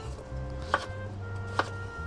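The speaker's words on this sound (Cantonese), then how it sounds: "將佢全部切晒一塊塊，好似西瓜咁咧" A kitchen knife chops winter melon into chunks: two sharp, clean strikes on a cutting board about a second apart, close and distinct above a low, steady background hum.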